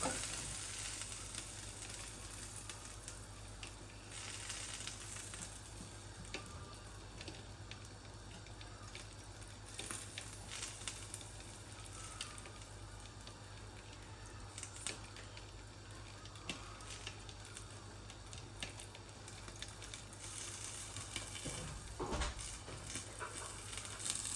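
Eggplant chops coated in egg fry in oil over medium heat, a steady close sizzle running throughout with occasional scraping stirs in the pan.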